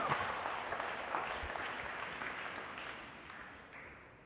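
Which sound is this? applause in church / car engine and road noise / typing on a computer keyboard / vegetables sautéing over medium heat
applause in church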